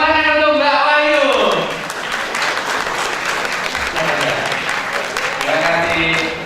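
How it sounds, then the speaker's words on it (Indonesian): An audience claps for a woman at an Indonesian security conference, a dense, loud round of applause filling the room, while a host's voice speaks over the start and end. "Tepuk tangan untuk Mbak Wahyu."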